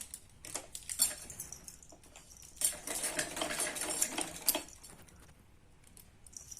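Sewing machine stitching a suit, heard in short bursts of quiet whirring and needle clatter separated by pauses, fairly faint and close with no voices.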